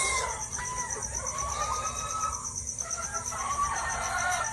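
Chickens cluck and call steadily in a busy yard, with a constant high insect-like drone running underneath throughout.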